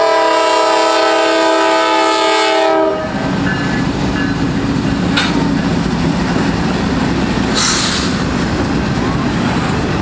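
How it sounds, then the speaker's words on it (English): A Norfolk Southern intermodal freight train heading south at a road crossing: a loud, close horn blast for the first few seconds, then the steady heavy roar and rumble of the passing cars, with a brief wheel squeal later on. "Another NS southbound on Cooke Road. It's coming, and it's an intermodal."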